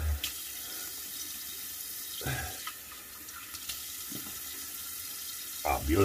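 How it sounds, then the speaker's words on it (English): Tap water runs into a sink for a rinse after a wet shave with Proraso Green, a steady close splashing that continues throughout and swells into a louder splash near the end. "Let's get a rinse. Let's get a good rinse."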